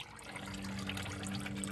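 Engine oil streaming and trickling from a cracked oil filter on a 2017 Ford Mustang V6, draining toward the centre of the car; a steady close liquid pour under a low background hum, with no talking.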